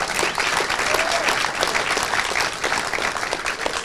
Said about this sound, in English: Give a big round of applause to Randy Couture